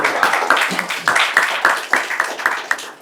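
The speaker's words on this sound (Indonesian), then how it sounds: "Tepuk tangan dulu" Audience clapping at an IKADI board inauguration ceremony in Sambas, a run of sharp, fairly close claps in an uneven rhythm lasting about three seconds, with some voices mixed in.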